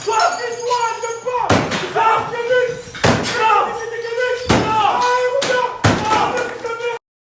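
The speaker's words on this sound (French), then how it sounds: "La porte elle est tombée sans faire exprès." A door falls over with sharp, loud slams and knocks repeating about five times, each a sudden broadband crash, with people talking throughout.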